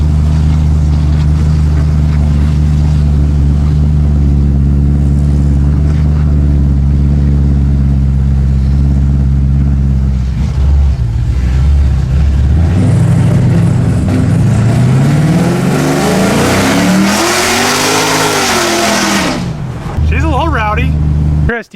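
A loud Pontiac GTO with an automatic transmission that shifts poorly, its engine droning near and heavy while driving, then revving up and down in rising and falling sweeps before a sharp cutoff, with people talking over it.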